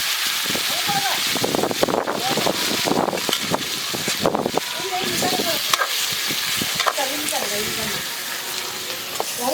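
Yogurt-marinated food with chili, salt and turmeric sizzles and spatters as it goes into a pan over a wood-fired stove, with steady frying hiss, stirring scrapes and voices talking throughout.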